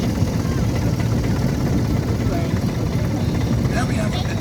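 A Fordson Major diesel tractor engine runs at a steady, loud, continuous low drone outdoors at a steam fair.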